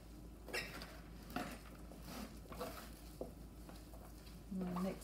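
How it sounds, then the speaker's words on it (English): Grated carrots and radishes are mixed by hand into cabbage for kimchi, giving faint, intermittent squishy rustles and soft bumps against a bowl in a quiet kitchen. "now we're just going to kind of mix those through with the cabbage as well"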